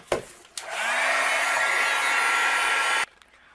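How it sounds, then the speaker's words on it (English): A heat gun drying a handmade mixed media card switches on with a click and blows a steady, loud whooshing roar for about two and a half seconds, then cuts off abruptly. "I'm going to use my heat gun to help dry this."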